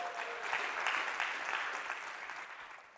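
A keynote audience at a conference claps in a full, even round of applause that carries on steadily at a moderate distance.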